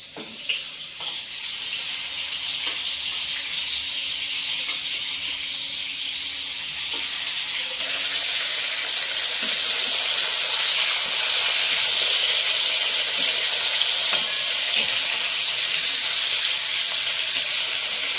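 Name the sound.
fish heads frying in oil in a wok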